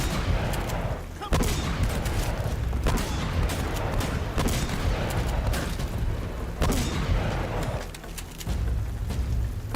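Video game shotgun fire booms out in repeated loud blasts at irregular intervals over busy game noise, and a voice is heard faintly in places.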